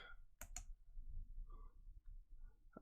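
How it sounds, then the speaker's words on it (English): A computer mouse right-clicks while a table is edited in Microsoft Word, giving a pair of quick crisp clicks close to the microphone, followed by faint soft handling noises over low background hum. "So let's right click on that."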